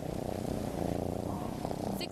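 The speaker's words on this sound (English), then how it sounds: "She's purring." A six-month-old kitten purring in a steady, close, continuous low rumble that holds evenly for about two seconds, with faint background noise around it.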